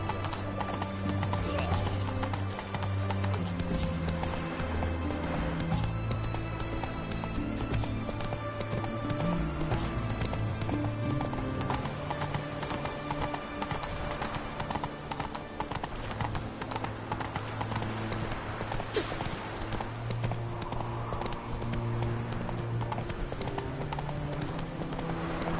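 Roach the horse gallops in The Witcher Wild Hunt, a steady, loud clip-clop of hooves that runs throughout with a brief whinny, over game music and occasional voices.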